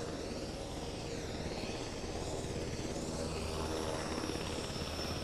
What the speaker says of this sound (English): as the helicopter keeps taxiing around